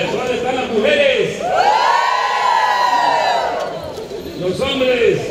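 A large crowd at a political rally shouts and cheers together in one loud, sustained roar lasting several seconds, with smaller bursts of yelling before and after.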